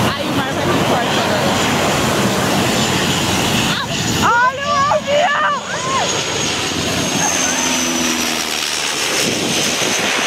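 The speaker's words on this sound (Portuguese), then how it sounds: "olha o avião" Propeller airplane passing over the sea at Saint Martin, its engine drone mixed with strong crashing surf, while people talk nearby and a brief warbling call cuts through midway.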